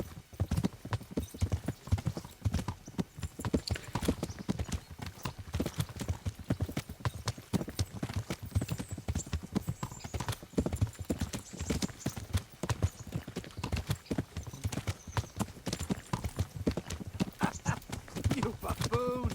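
Steady horse hooves clip-clop at a walking rhythm throughout in Kingdom Come: Deliverance, with occasional whinnies and people talking over the hoofbeats.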